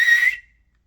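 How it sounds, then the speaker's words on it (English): One loud, steady, high-pitched mouth whistle made without fingers, held briefly and then cut off quickly, close and alone. "Practice the mid whistle"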